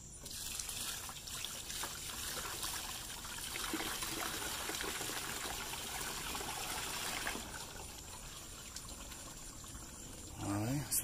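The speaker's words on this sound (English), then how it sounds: "Alright, so it's raining hard." Dense rain hisses and patters continuously, broad and steady, with water trickling, and a brief voice-like sound near the end.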